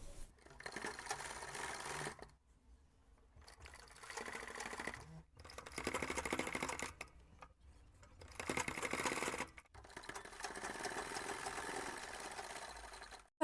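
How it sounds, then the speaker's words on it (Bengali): A sewing machine stitches a small summer dress for a Laddu Gopal doll, running in steady whirring bursts of a few seconds each, separated by short silent pauses, close and fairly loud. "এখান থেকে সেলাই করে নিতে হবে"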